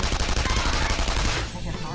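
Rapid burst of gunfire from an attack in the video game Persona 5, loud dense repeated shots for about a second and a half before tapering off, with a voice faintly under it.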